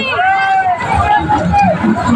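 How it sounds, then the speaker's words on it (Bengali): Dense crowd of pilgrims at a Loknath Brahmachari birthday puja, a steady close hubbub of many overlapping voices with no single speaker standing out. "প্রচণ্ড ভিড় এখানে"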